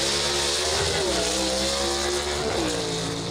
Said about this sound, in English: But listen to this car leave the line.